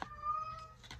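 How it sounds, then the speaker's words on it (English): A house cat gives one drawn-out, tonal meow lasting most of a second, close and fairly clear over a quiet indoor background, with no talking. "Now my cat is going to start"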